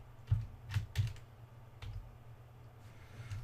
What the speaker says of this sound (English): Now I'm going to use the keyboard, wireless keyboard I've got to move around.